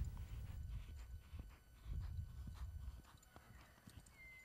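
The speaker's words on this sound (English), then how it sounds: "schooling a young up-and-coming horse" Hooves of a young horse being schooled on a ranch clip-clop in an irregular walking rhythm, fairly close and moderately loud, with no talk over them.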